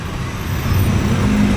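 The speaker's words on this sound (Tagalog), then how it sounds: "Traffic ito sitwasyon guys, na hinain kayong dagan sa kanay" Road traffic in Banilad, near San Carlos, passes by as a close, loud rumble of moving cars and heavier vehicles, with a low engine drone swelling slightly as vehicles roll past.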